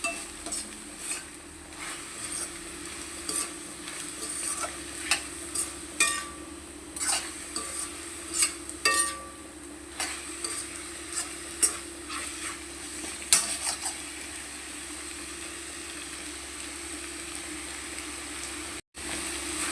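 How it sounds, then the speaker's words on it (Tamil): A spoon scrapes and stirs cumin in oil in a pan over a steady low sizzle of frying, with irregular clinks of metal on metal. "ஜீரகம் போட்டு நல்லா கிண்டி விடுங்க"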